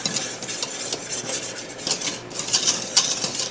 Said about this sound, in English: And keep stirring now, mind.